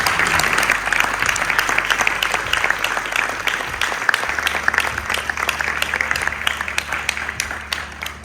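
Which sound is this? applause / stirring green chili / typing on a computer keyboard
applause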